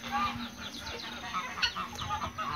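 A young Índio Gigante rooster, nearly a year old, and nearby fowl give faint, scattered clucks and calls over a low steady background hum.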